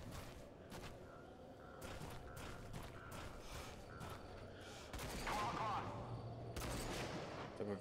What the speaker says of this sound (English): I'm hearing gunshots.